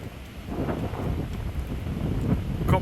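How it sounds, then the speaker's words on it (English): Gusty wind buffets the microphone outdoors near the Brandenburg Gate in Berlin. It makes a continuous low rumble that builds slightly toward the end. "It's very windy, guys"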